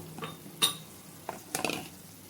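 Spinach puree going into a simmering masala for dhaba-style garlic palak paneer, with a few clinks of a utensil against the pot followed by soft scraping and stirring, faint and close.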